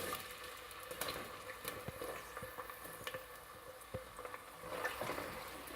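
Onions added to hot oil in a pot, frying with a steady crackling sizzle and occasional soft stir knocks, heard up close with no talking.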